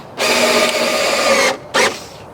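A power drill drives screws into a wooden garden bed: one long loud whirring run lasting over a second, then a brief second burst.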